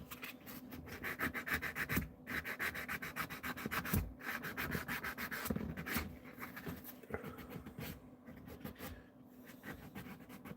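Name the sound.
sanding a handmade back scratcher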